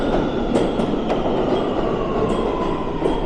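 A New York City subway A train rumbles loudly and steadily up close at a station, with clattering wheels and faint metallic squeals over a constant roar.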